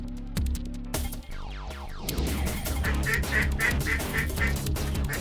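Ducks quack in a farmer's cow field during a waterfowl hunt, a steady run of repeated quacks, fairly close and clear over background noise.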